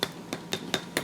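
Roasted German pork hock with hard, crispy skin is tapped five times in quick, even succession, each tap a sharp, hollow click close by.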